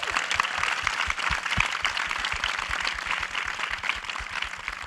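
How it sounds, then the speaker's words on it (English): A food-panel audience claps for a community development director, a fairly quiet and even round of applause running throughout with a few louder claps. "Give him a round of applause, please."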